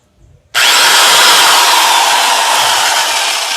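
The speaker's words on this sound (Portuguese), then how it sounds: "Aqui eu tenho uma furadeira Black & Decker de 380 watts. Vou ligar ela aqui" A Black & Decker 380-watt electric drill switches on abruptly after a brief quiet moment, then runs at a loud, steady, high-pitched whir.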